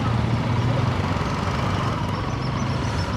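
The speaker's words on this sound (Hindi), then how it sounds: "बाइक की क्या, इंजन की क्या आवाज़ आ रही है वो सब कैप्चर होनी चाहिए" A TVS RTX 300 motorcycle engine runs steadily on a night ride through busy city streets, a loud, dense, continuous drone with broadband wind and road rumble and no clear pauses.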